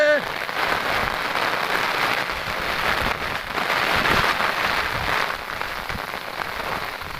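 Heavy rain pours steadily on a village and its surfaces during Cyclone Remal, a loud, dense, continuous hiss with scattered drips and splashes, close all around.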